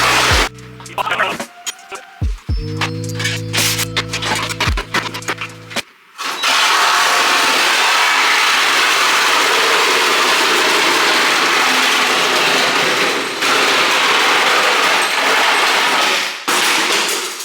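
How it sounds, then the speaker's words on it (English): Angle grinder slicing into a crashed BMW E36: a few seconds of clanking and whirring mechanical noise, then a loud, harsh, continuous cutting hiss that runs unbroken for about ten seconds before briefly dipping near the end. "Let's get out the angle grinder."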